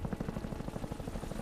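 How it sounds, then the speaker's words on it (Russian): A helicopter in the video game Max Payne 3 gives off a steady, rapid rotor thump that stays close and moderately loud, with no voices over it. "О, вертолетик."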